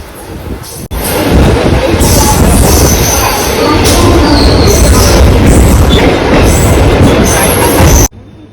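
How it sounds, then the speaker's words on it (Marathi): MEMU commuter train pulling out of Dahanu Road station, a steady loud rumble of wheels and carriage noise with high squealing tones, continuous from start to near the end, with faint voices mixed in. "आणि इथे 2 ते 3 मिनिटं थांबून आता ट्रेन लगेच सुटली आहे डहाणू रोड स्टेशनवरून."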